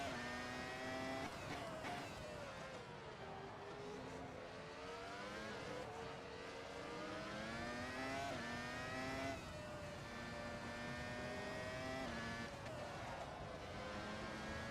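1999 Formula 1 race cars in the Assetto Corsa video game scream at high revs, pitch climbing through upshifts and dropping on each gear change, loud and continuous for the whole stretch.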